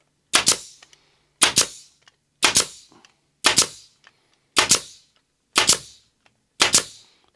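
Seven sharp, evenly spaced snaps of a staple gun driving staples through fabric into a car door trim panel, each crisp bang followed by a brief rattle, close and loud in an otherwise quiet workshop.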